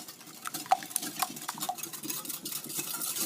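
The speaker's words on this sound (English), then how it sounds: "to mix our ingredients together until well combined." Egg and cinnamon for French toast are mixed in a bowl with a utensil, producing rhythmic soft stirring and light clinks against the dish, close and moderately quiet.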